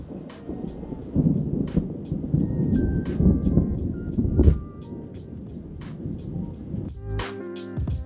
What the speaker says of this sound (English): This is hands down one of the craziest sounding thunderstorms that I've heard in a long time.